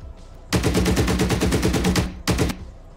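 A BRDM armored car's machine gun fires in a video game: a fast, loud burst of evenly spaced shots lasting about a second and a half, a brief pause, then a shorter second burst, close with no speech.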